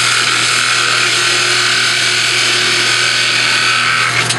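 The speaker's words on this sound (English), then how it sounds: "So I usually do it while the lathe's running" A wood lathe runs loud and steady while a workpiece turns, giving a continuous hum with a bright rubbing, scraping texture and no speech.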